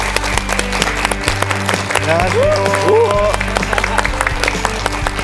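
Studio audience on a Korean morning talk show applauds as a guest, a paper airplane national team member, walks on; steady crowd clapping under a low hum, with a musical stinger and a brief spoken greeting.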